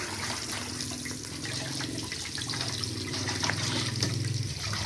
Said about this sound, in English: Then we start by washing our tomatoes.